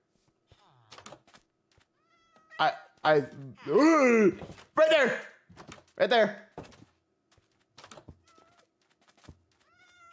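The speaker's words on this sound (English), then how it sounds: "That's a full black cat!" A black cat in the Minecraft video game meows several times in a run of clear, rising and falling cries, mixed in with excited voices talking over the game.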